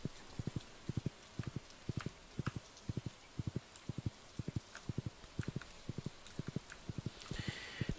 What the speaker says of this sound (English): I do have a horsey.